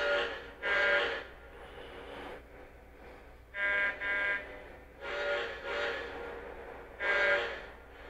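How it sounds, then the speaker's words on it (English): Lionel Legacy model train locomotives in a lash-up, both units sounding their horn and whistle in several separate blasts, with quieter bell and running sounds between them and no talking. "Now when I play the horn button, you can hear that the sounds came out of both units."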